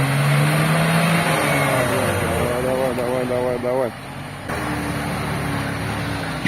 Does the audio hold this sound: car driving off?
yes